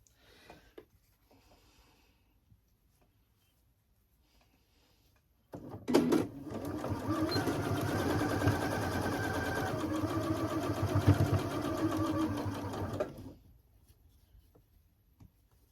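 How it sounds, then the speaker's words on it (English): A sewing machine stitches quilt squares together for a baby blanket, a steady whirring run of about eight seconds that stands out over a quiet room, with faint sounds before and after. "we're going to sew that together"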